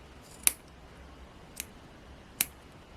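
Scissors snipping crochet yarn while making a Christmas ornament hat: three crisp, separate cuts spaced about a second apart, close and quiet against a near-silent room.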